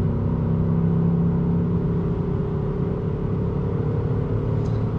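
A Ford Mustang GT V8 convertible accelerates hard on the road, with a loud, steady engine drone heard from inside the cabin and no talking.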